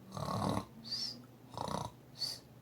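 A person imitating snoring: two rasping inhaled snores, each followed by a breathy whistling exhale, close and moderately loud.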